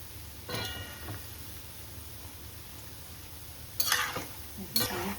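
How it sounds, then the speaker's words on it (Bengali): Palm fritters deep-frying in oil on a high flame, with a steady soft bubbling hiss and a few louder scraping bursts from a spoon or ladle in the pan, close by. "এটা কিন্তু হাই ফ্লেমেই এই বড়াগুলি ভেজে নিতে হবে।"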